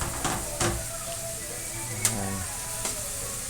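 Garlic sizzling in oil alongside browned beef in a pan: a steady low hiss with a few sharp scraping clicks, while a voice speaks briefly.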